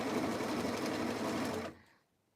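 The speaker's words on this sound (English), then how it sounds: "right now I'm just sewing to the top of the quilt fabric" A sewing machine runs steadily, stitching along quilt fabric in a close, continuous mechanical whir, then stops abruptly and leaves near silence.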